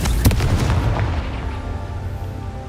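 A fiery blast spell sounds in a wizard video game, a close booming explosion with a sharp onset and a rumbling tail that fades over a couple of seconds.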